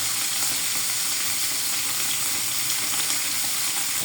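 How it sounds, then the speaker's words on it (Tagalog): Fish frying in a pan gives a loud, steady, crackling sizzle of hot oil heard up close and without pause. "So nag-prito na."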